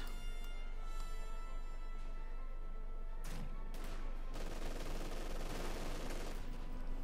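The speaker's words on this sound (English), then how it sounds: "Small loss for Zerg, though he still has 2 machine guns on Osman" Machine gun fire in the Company of Heroes 2 video game, several bursts of rapid rattling gunfire over a steady battle background, with a heavier sustained volley near the end.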